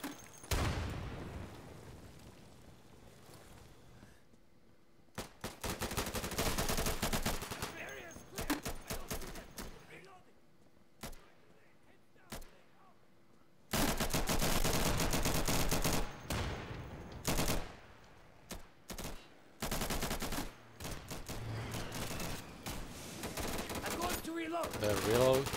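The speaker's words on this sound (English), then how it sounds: "Not even sure if he's an enemy, but I'm gonna shoot anyway." Gunfire in the tactical shooter game Insurgency, played on Linux: long, loud bursts of automatic fire and rapid single shots come in clusters separated by quieter gaps, with a voice talking now and then between the volleys.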